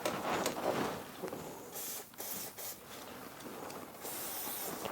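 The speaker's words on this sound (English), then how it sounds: "just hit them with some brake cleaner there" Brake cleaner sprayed onto Mini Cooper R56 brake parts, a faint close hiss in several short bursts of uneven length with brief gaps between them.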